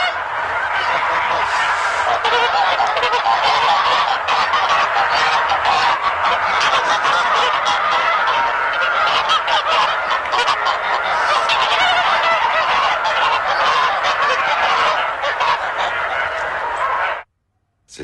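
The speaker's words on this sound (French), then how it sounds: "les Allemands probablement faisaient courir les oies dans tous les sens afin que les oies se mettent à crier" A loud, dense flock of geese honking and crying out continuously, a chaotic clamor of many birds that cuts off abruptly at the end.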